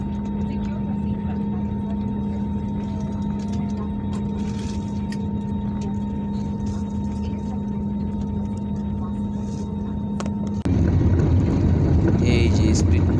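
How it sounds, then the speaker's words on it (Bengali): An airplane taking off from Bagdogra roars as a steady, loud engine drone inside the cabin, then swells sharply louder and rougher as the aircraft speeds up, with no talking over it. "এই যে স্পিড বেড়ে দিল, এখনই উপরে উঠে যাবে।"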